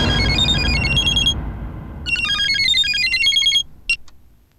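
A telephone rings with an electronic trilling ringtone in two bursts separated by a short pause, then a brief chirp. It is loud and close, with no talk over it.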